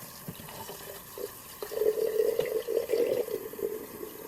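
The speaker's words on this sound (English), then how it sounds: "I brought the water in through the top, the water went back out through the top" Water poured over sprouting seeds to rinse them, a steady splashing and trickling stream that swells after a quiet start and runs on for a few seconds with no talking.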